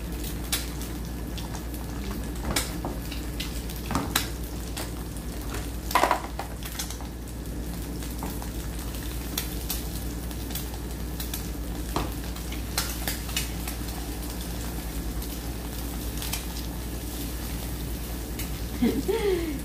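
Eggs frying in a pan for an avocado toast brunch, a soft steady sizzle and crackle running throughout with a few small clicks and pops, fairly quiet and close.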